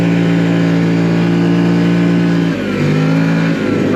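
A 2025 CFMOTO Cforce 800 Touring ATV engine roars loudly up close, holding a steady high pitch, then dips and climbs again as it revs through a gear change.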